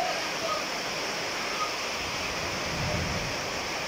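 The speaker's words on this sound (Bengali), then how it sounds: "বাইককে গোসল করানো হচ্ছে বৃষ্টির পানিতে স্নান করতেছে আমার বাইকটা" Heavy rain pours steadily onto a parked motorbike outdoors, a dense, even wash of hiss and patter that holds at a constant level throughout with no pauses.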